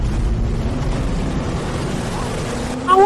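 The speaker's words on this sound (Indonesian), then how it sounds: "Ini suara mesin kapal pesiar." Yacht engine running, a steady low droning rumble that holds evenly throughout, with a slight rise in level near the end.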